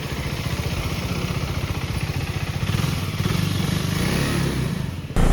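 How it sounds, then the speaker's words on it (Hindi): Motorcycle engine idling while it warms up before a ride to Bumla Pass near Tawang, a steady close-up rhythmic thumping putter that swells slightly midway, then cuts off abruptly near the end. "अभी तो फिलहाल बाइक को गर्म होने देते हैं"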